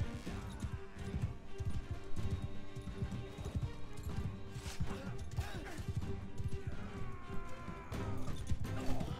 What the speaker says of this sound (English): Stupid horse, turn around!